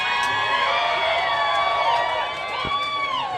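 A crowd at an amateur Friday night fight event cheers and whoops loudly for a fighter, a steady roar of many voices with individual high shouts rising and falling.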